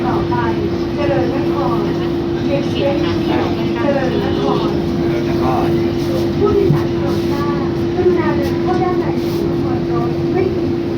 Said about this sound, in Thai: นะก็เป็นระบบรถไฟฟ้าไร้คนขับนะฮะ นะครับตอนนี้เราก็กำลังจะเคลื่อนตัวออกจากสถานีทน กรุงธนบุรีนะ